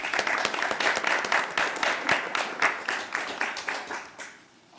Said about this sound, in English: So please join me in a round of applause for these 2 officers